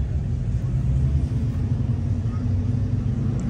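Low, steady rumble of a car with a 2.2 turbo engine and stick shift running, continuous and fairly loud, with no clear revving or gear changes.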